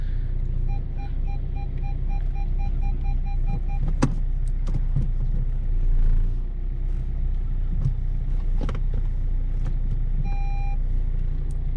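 A Renault Laguna 3 idles steadily after a clutch replacement while reverse is engaged, with a repeating reverse beep chirping over the engine rumble and a couple of sharp clicks and clunks.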